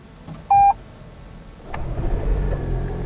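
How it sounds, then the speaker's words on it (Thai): A Toyota Camry 2.5 hybrid starts up with a single short beep from the push-button start, followed a moment later by a low engine rumble that settles into a steady idle, close by and moderately loud. "อันนี้ก็คือเครื่องยนต์ทำงานแล้วนะคะ"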